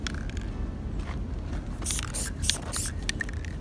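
Aerosol spray paint hisses in short bursts over plastic Audi wheel center caps as another coat goes on, several sharp hissing spurts of varying length in the second half, close by.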